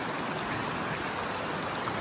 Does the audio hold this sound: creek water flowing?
yes